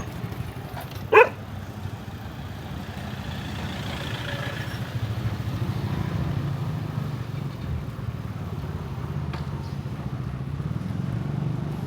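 A single sharp dog bark near a roadside in rural Thailand, heard once early on, then steady traffic and wind rumble carry on with no further barking.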